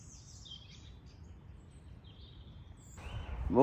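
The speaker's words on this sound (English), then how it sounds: "As you might be able to tell from the birds and the dawn chorus, it's now morning" Faint birdsong from a morning dawn chorus in woodland at a bushcraft campsite, distant chirps and trills over a low background hush, ending in a closer rustle or bump.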